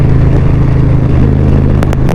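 Motorcycle in 6th gear rolling on the throttle, a steady loud engine drone close up that holds throughout with low harmonic rumble and occasional wind bursts.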